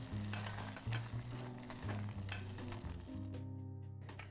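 Thick fig jam simmers in a small pot while a spatula scrapes across the bottom, a continuous soft bubbling sizzle with repeated scraping strokes in a quiet kitchen, no talking.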